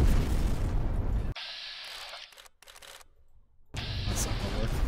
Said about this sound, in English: Holy hand grenade!